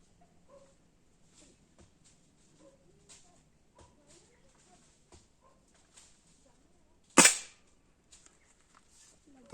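A single sharp, sudden crack of an air gun pellet hitting a target rings out after several seconds of faint, scattered low sounds and quiet rustling, in an Uttarakhand village.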